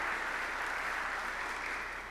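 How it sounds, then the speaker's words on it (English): Faint, steady applause from an audience fills a college hall of fame ceremony, a continuous even patter of clapping heard from a distance with no voices over it. "so a round of applause"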